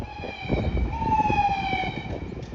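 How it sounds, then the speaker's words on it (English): A police car siren passes at a distance, a faint wailing tone rising and falling over the low rumble of street traffic. "Here goes the police car."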